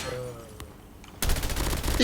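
Rapid automatic gunfire bursts out loud and dense in a Call of Duty Mobile match, following a quieter stretch with faint game sounds and brief tones.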